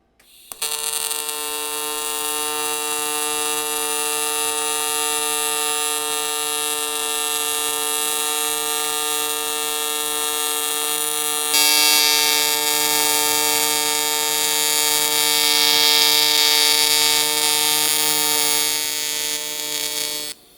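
A TIG welder arc pulsing at 150 Hz gives a steady, loud electric buzz with strong tonal harmonics that runs continuously for about twenty seconds, brightening and getting a little louder partway through, with no talking.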